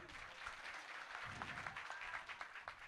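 A crowd at a Gujarati ramel gathering claps together in a sustained burst of applause, faint and somewhat distant, with a little talk mixed underneath.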